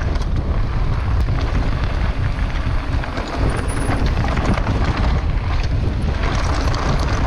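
Loud, constant wind buffeting the microphone outdoors at a bike park, a roaring low rumble that never lets up for several seconds.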